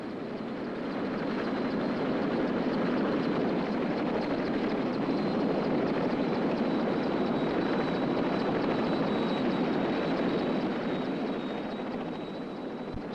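A 1956 McDonnell XV-1 convertiplane descends and lands like a helicopter, its steady loud rotor and engine roar holding throughout, with a faint whine above it and no speech.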